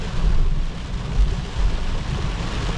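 Heavy rain pours steadily at an outdoor food festival in Toronto during a flooding downpour, a dense close wash with low rumbling gusts and no talk.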